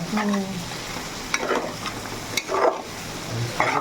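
Curry frying and being stirred in a pan, with a steady sizzle under scattered scraping strokes of a spoon against the pan, close by.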